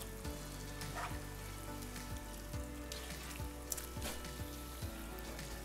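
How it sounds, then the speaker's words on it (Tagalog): Chicken humba simmers in a pan with a steady, dense sizzle and bubbling, broken by soft repeated scraping as it is stirred, close and continuous with no voices. "Muli natin itong simmer na mga 5 minutes at pagkalipas ng 5 minuto, haluin lang natin para magpantay ang pagkakaluto ng ating chicken."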